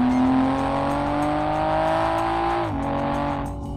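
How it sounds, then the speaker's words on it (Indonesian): Toyota GR Supra in sport mode, its exhaust giving a deep, steady engine drone from inside the car, holding high revs before the pitch drops slightly as the driver shifts or eases off. "Suara knalpotnya kedengeran agak sedikit beda, kayak lebih mendelung, lebih berat lagi"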